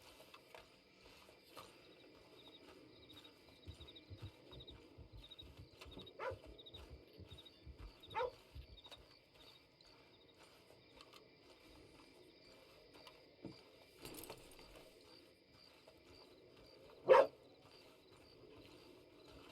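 A dog in the video game Red Dead Redemption 2 gives a few scattered barks amid quiet ambient game sounds and mechanical clicks, moderately near, with one sharper loud bark near the end.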